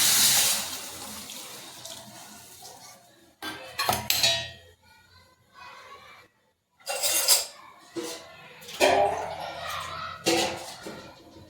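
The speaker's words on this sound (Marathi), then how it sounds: "आता पाणी टाकून घ्यायचं." Water is poured into a cooking pot of ambadi sukat bhat, arriving in several splashing bursts with pauses between them, close and fairly loud, along with a few clinks of utensils.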